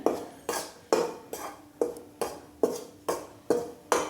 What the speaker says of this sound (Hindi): और इसको लगातार चलाते हुए भूनेंगे।